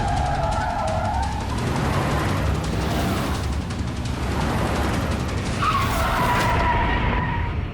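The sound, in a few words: car braking hard and skidding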